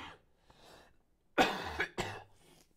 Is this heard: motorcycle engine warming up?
no